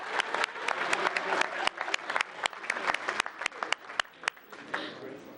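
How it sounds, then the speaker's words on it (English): Applause from an audience at a town council meeting in Gilbert, a steady crowd clapping with sharp individual claps standing out, sustained throughout at moderate loudness. "So extra round of applause."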